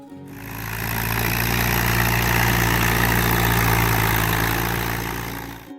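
An Allis-Chalmers WD45 tractor engine idles with a steady, low, rumbling chug that fades in, holds at an even level, and fades out with no talking.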